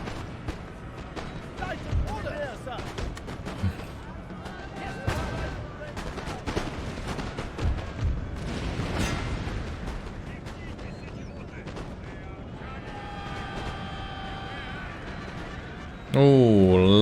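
Artillery firing in Napoleon: Total War, repeated booming shots and crackling volleys over a constant battle din, with someone talking over parts of it and a musical chime near the end.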